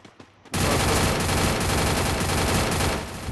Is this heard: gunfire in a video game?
yes